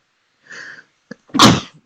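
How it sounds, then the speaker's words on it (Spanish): A single loud, close sneeze comes after a brief inhaling buildup and a short catch of breath, then trails off into quiet. "quiero estornudar"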